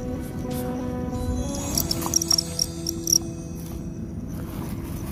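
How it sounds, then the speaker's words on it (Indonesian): Collared field crickets, glossy black ones, chirp steadily and close by in a continuous trilling chorus, with a few brief rustles and clicks over the top. "Masih bunyi aja si jago di belakang."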